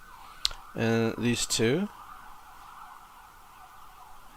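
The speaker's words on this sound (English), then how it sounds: "I hear the ambulance." An ambulance siren wails faintly in the distance as a steady tone running under the whole stretch while someone speaks briefly over it.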